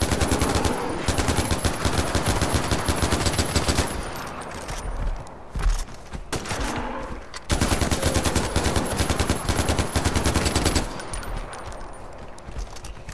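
Loud, rapid automatic gunfire in Far Cry 4, long sustained bursts with a short lull in the middle before firing resumes just as heavily.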